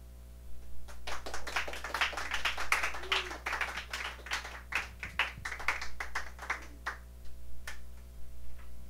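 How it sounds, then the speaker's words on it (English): Audience applause rings out at the close of a live radio show on a porch stage, a modest scatter of sharp claps rising and falling over a steady low hum. "Every time I hear that applause, I realize we've made it to the end of another show."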